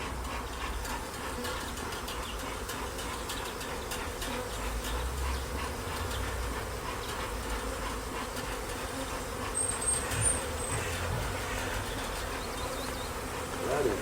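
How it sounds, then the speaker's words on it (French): Honeybees hum steadily around an open hive as the beekeeper smokes it, a continuous dense buzz of many insects close by, with no voices. "j'en fume pour enlever le maximum d'abeilles"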